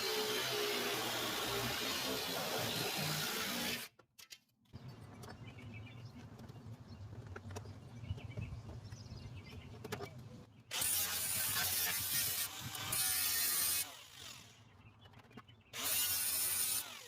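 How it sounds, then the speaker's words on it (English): A jigsaw cuts through the fender of a 1993 Toyota Corolla DX to make room for fender flares, a loud buzzing rasp in several long bursts separated by short pauses and a quieter stretch. "I'm going to use a jigsaw to cut this out."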